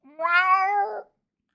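A pet cat lets out a single throaty, mournful meow lasting about a second, close and clear with no other sound around it.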